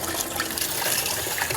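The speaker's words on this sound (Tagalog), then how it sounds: "malakas yung tubig guys. Ayan guys, kaya maghugas tayo ng karne guys." Strong tap water gushing steadily while raw meat is washed at a market stall, a loud continuous rushing splash with no pauses.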